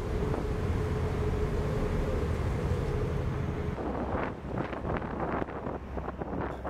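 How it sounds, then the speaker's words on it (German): Strong wind roars across a boat crossing the Strait of Magellan as waves wash salt water over the deck, with constant buffeting gusts and a faint engine hum that drops away partway through. "Wir tanzen auf der Magellanstraße und die Wellen spülen das Salzwasser über das Deck."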